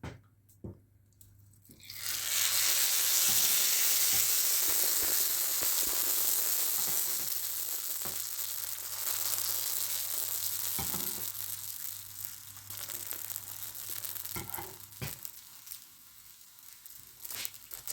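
Chicken sizzles steadily in hot oil in a pan, a loud continuous frying hiss that starts abruptly after a quiet moment and continues with small crackles and pops.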